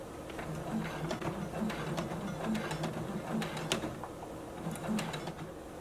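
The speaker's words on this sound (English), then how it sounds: "I'm just going to begin sewing." Domestic sewing machine running at a 3.0 stitch length as it stitches a fold-over clutch bag, a steady quiet mechanical whir with a regular pulsing rhythm and faint clicks throughout, close by with no talking.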